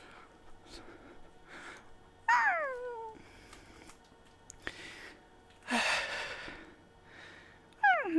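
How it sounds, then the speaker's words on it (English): Several distinct cat meows at close range, each a short falling cry, spaced apart over a quiet background with faint sighs and snorts between them. "Kitties."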